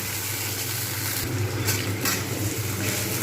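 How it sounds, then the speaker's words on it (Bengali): Ground spice paste thinned with a little water sizzles steadily in a hot pan while it is fried down for a matar dal bora curry: a loud, continuous, close frying hiss with no talk. "ভালো করে আমি কিন্তু কষে নিচ্ছি"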